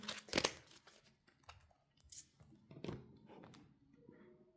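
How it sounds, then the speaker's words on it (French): A card drawn from a tarot deck gives faint, close papery rustles and crinkles: a few soft scrapes and slides of card stock in a quiet room, with brief pauses between the movements. "Je vais prendre la première carte"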